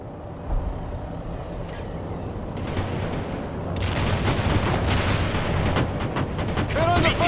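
Sustained battlefield gunfire from World in Conflict, dense bursts and fusillades with heavy rumbling explosions, building louder over the clip, with a voice speaking underneath.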